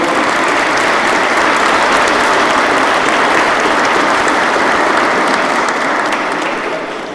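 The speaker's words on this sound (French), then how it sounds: "On peut t'applaudir très fort, Vanessa" A church congregation at an Easter Sunday Mass applauds a newly baptised woman, a loud, sustained wash of many hands clapping close by for about seven seconds before starting to taper off at the end.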